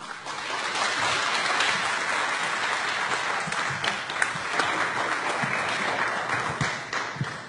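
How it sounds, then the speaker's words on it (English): An audience in a community hall in Brampton applauds steadily to welcome Minister Hussein, a dense, even wash of many hands clapping for several seconds with no talk over it. "let's give him big applaud and warm welcome"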